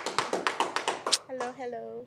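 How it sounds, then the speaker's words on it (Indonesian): A handful of people clap in quick, evenly spaced claps for about a second in an indoor podcast studio, then a voice starts speaking. "Tepuk tangannya dulu dong."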